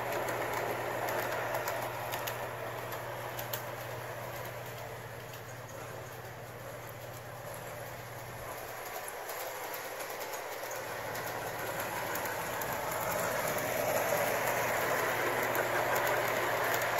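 A Bachmann model train pulling passenger coaches behind freight cars runs around its track, a steady close-up whir and rumble of the small motor and wheels that holds on throughout, growing slightly louder toward the end.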